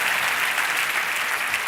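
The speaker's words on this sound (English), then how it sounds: "Let's clap it up for the hustle." A crowd at a motivational talk claps steadily, a brief dense wash of applause at close, even loudness.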